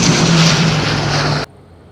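EasyJet airliner descending to land at Madeira Island Airport in windy conditions, a loud, close engine roar with a low hum that cuts off abruptly to near silence.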